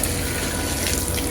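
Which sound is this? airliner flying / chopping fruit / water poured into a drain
water poured into a drain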